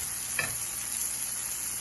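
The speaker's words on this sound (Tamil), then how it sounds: "இப்போ பார்த்தீங்கன்னா தக்காளி நல்லா வதங்கி வந்துருச்சுங்க." Tomatoes sauté in a pan, giving a soft continuous sizzle with one brief scrape of stirring near the start, heard fairly quietly and with no voices.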